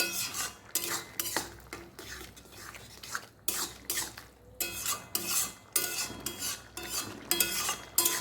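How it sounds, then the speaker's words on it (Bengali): Bottle gourd and potato curry with coriander paste being stirred in a pot, a spoon scraping and clinking in bursts of busy, close scraping with short pauses between strokes. "এবার সব কিছু ভালো মতো নেড়ে নিচ্ছি ধনেপাতার মশলা দেওয়ার পরে"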